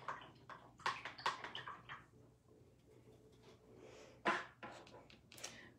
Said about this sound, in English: I'll wash my brush out here.